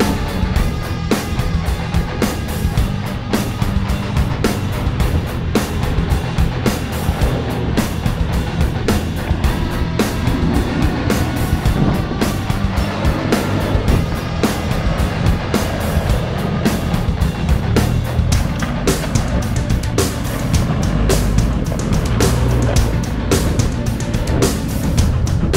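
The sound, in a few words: diesel Toyota Prado with rear locker driving off-road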